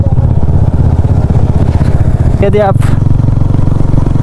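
Steady loud drone of a motorcycle engine while riding on a rural road, a constant throbbing hum underneath a rider's talk from start to finish.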